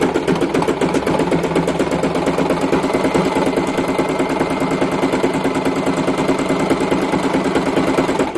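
A Singer Promise sewing machine stitching down the right-hand side of a buttonhole, producing a fast, steady mechanical chatter of rapid needle strokes that runs loud and close throughout without pause, with no voices.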